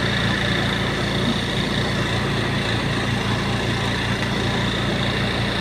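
Washing machine motor refitted to drive a clothes dryer, running at a steady loud hum with a constant droning whine and no change in pitch throughout.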